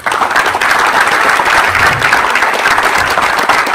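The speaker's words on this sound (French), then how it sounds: "je crois qu'on peut s'applaudir tous ensemble." Audience at a health forum applauding together in a hall, a dense, loud burst of clapping that fills the whole moment steadily with no talk over it.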